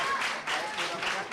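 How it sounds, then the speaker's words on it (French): Brief applause breaks out among people gathered at a primary school leaving exam (CEPE) session, a dense patter of clapping hands that rises and falls over about a second with faint background chatter. "On applaudit, non?"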